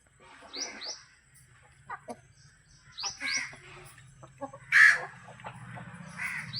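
Native country chickens on a farm, including fighting-breed hens, give scattered clucks and squawking calls at close range over a low steady hum, with no talking.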